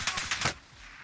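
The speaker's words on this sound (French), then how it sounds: "Oh putain, on me tire dessus." Gunfire aimed at the player in a video game: a quick burst of four or five sharp shots in rapid rhythm, then silence, moderately faint and with no talk.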